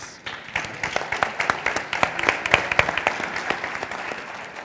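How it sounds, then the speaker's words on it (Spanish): A small audience applauds panel speakers at a round-table conference, with steady clapping that swells into a sustained round lasting several seconds and continuing to the end. "Un aplauso para ellos."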